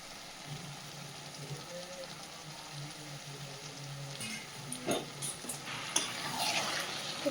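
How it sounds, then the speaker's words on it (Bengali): A spoon works through bottle gourd ghonto cooked with fish head in a pan, producing soft scraping and gentle sizzle under a low background hum, with a few sharper clinks of metal near the end. "সুন্দরভাবে মিশিয়ে দিচ্ছে সব কিছু"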